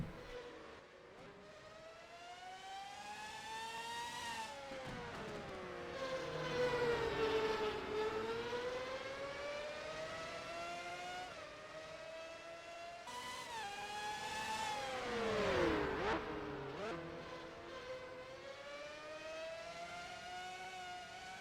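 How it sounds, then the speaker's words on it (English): Formula 1 car engines in the NASCAR Racing 2003 video game at a simulated Brands Hatch race, high-pitched engine whines rising and falling through gear changes as cars pass, loud and continuous with no talk. "nearly 8 seconds in front of that Mercedes of Lewis Hamilton"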